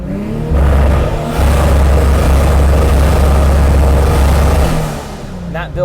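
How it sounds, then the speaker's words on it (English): Nissan RB25DET engine in an S14 on a dynamometer, revving up hard with a deep, loud drone that holds steady for several seconds before dropping back toward idle. "I'm just going to rev it up, see what it's going to do here."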